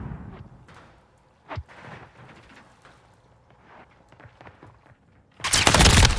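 Video game gunfire, with scattered quieter shots and one sharp crack early on, then a loud sustained burst of automatic fire at the end.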